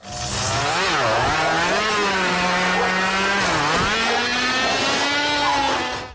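A lawn mower engine runs loud and close, its pitch rising and dipping as it revs and surges unevenly throughout, with no voices.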